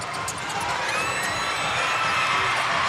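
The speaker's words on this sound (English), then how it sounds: "This crowd was not this loud in game 1." Basketball finals crowd at an indoor sports complex roars in a steady, loud wash of cheering and shouting, with scattered whoops and high shrieks running throughout.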